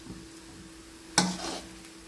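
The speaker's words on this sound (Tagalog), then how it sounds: "Ginisang broccoli at cauliflower with hipon" Broccoli and cauliflower with shrimp sautéing in a pan: a quiet background hiss broken by a single sharp stir or clatter, then a brief swell of sizzling that fades.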